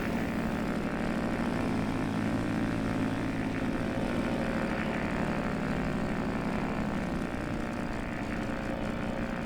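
In the X-Plane 11 flight simulator, a propeller aircraft engine on the ground with its mixture leaned runs up. It gives a loud, steady droning roar that holds evenly throughout, with no speech.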